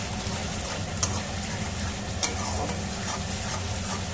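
Cashews, fennel and poppy seeds are stirred in a hot pan, a soft steady sizzle with a couple of faint scraping taps.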